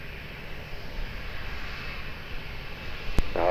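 A plane taking off at Lisbon Airport gives a steady, broad engine roar, heard from some distance, with a sharp click near the end.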